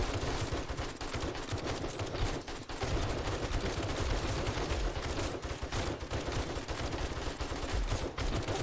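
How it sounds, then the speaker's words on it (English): Rapid, continuous gunfire from the video game 7 Days to Die, fired to shoot a pole out of the way, forms a dense, loud barrage of shots with no pause across the whole stretch. "Shooting that pole out of the way."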